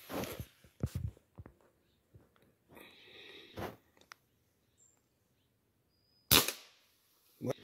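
A Hatsan Flash air rifle fires during a thrush hunt, giving several sharp, short cracks spaced seconds apart outdoors, with faint rustling and distant bird calls between shots.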